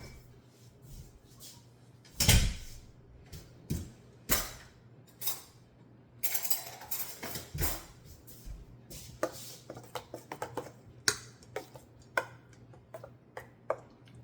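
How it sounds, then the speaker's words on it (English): A spoon stirs enchilada sauce in a pot with scattered clinks and scrapes against the metal. The taps come in irregular bursts, quiet and close, with a thicker cluster of sound midway. "Let me give it a little stir."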